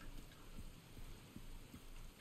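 Steady rain falls in Resident Evil 4 Remake as a soft, continuous hiss, with a few dull low thumps surfacing through it at irregular moments.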